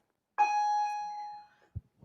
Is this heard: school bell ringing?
yes